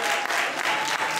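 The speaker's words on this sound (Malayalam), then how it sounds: "ഇവിടെ നീ കൈയടിക്കുമ്പോൾ" A church congregation claps together in a steady, dense burst of applause, loud and close, with no voices standing out over it.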